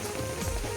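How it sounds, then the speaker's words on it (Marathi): Rain falls steadily outdoors during a sea-fishing trip, a dense broadband hiss of drops on surfaces that holds constant through the short stretch with no talk. "पाऊस आला पक्का त्याच्यामुळे आम्ही छत्र्या घेतल्या भिजलो थोडा"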